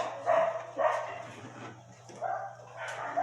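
Street dogs bark repeatedly from a short distance, several sharp barks and yips spaced across a few seconds over a low steady hum.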